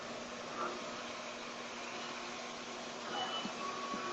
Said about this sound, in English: So I'm going to deliberately rev air this piece coming forward.